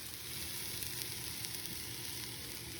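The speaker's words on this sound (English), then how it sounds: "Okay, the onions have been on for a minute." Onions sizzling in a hot pan for homemade spicy salsa, a steady soft frying crackle heard alone at low volume.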